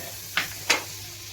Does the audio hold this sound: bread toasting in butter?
yes